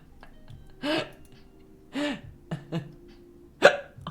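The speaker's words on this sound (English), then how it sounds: "when you get hiccups at the start of the day, you get them for the rest of the day?" Hiccups from a woman during a casual step-by-step lion painting hangout, four short sharp hiccups spaced irregularly over a few seconds, close and fairly loud over a quiet room.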